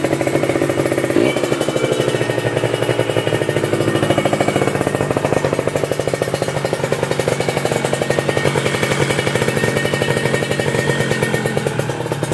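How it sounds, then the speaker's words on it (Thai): An old Victor police patrol motorcycle, parked for about ten years, runs with a fast, steady mechanical clatter and throbbing engine pulse, loud and close throughout with no talking. "เดี๋ยวผมขออนุญาตสตาร์ทฟังเสียงนะครับคันนี้นะครับจะได้ฟังเสียงพร้อมๆกันด้วย"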